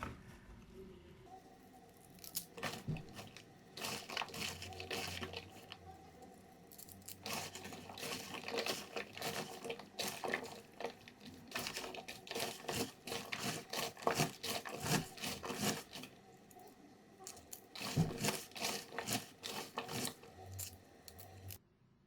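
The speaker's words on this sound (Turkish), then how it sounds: "Lahanayı güzelce karıştırıyoruz" Purple cabbage salad tossed and squeezed by hand, giving repeated close wet crunchy rustling and squelching in bursts with brief pauses.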